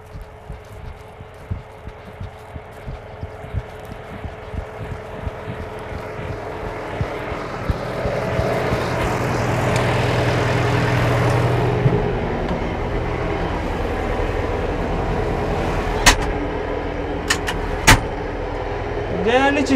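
A tractor engine rumbles steadily while ploughing a field, with low chugging and rattles of machinery growing louder midway, followed by a few sharp clanks near the end.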